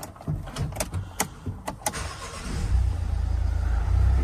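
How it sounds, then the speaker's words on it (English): 2016 Mercedes Vito van, a few clicks and cabin sounds followed by the engine starting and settling into a steady low idle rumble, close by. "So if we come round and we start the vehicle up"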